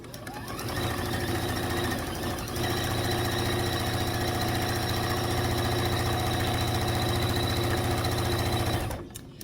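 A sewing machine stitches a vintage quilt table runner, running in one steady, fast mechanical whir with a brief hitch early on, close and loud, stopping near the end.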